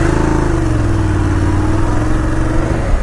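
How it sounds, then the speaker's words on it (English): A BMW F850GS motorcycle in dynamic mode accelerates hard, its engine roaring loud and steady at close range with rising pitch through the run. "So this motorcycle comes with Gear Shift Assistant Pro without clutch."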